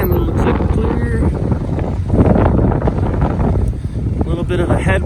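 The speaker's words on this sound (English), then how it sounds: "A little bit of a headwind, crosswind combination" Headwind and crosswind buffet the microphone on an e-bike ride along a paved rural trail, a loud constant rumbling roar with a person talking under it.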